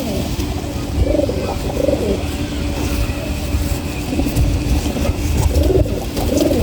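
Pigeons cooing in soft repeated phrases amid steady low background rumble and a passing engine, the calls coming in two bursts near the start and end.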